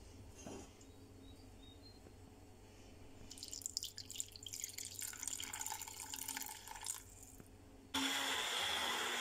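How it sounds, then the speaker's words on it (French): Water pours into a pot of vegan soup or velouté already thinned with coconut milk, a faint drip giving way to a splashing, gurgling stream in the middle, then a steady louder rush at the end. "je vais rajouter un petit peu d'eau en plus du lait"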